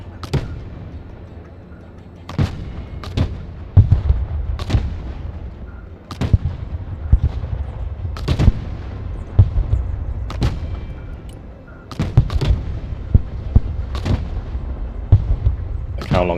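Mortar artillery in the military strategy game Broken Arrow fires repeatedly, loud booming thumps arriving every second or so over a low rumbling battlefield background.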